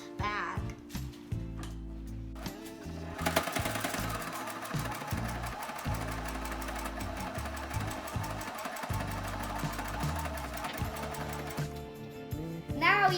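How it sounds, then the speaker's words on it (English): A sewing machine runs in steady bursts stitching all four sides of an origami fox bag, its rapid rhythmic needle chatter starting and stopping, loudest through the middle stretch and fairly close. "Now, we are going to sew the area on all 4 sides of the bag."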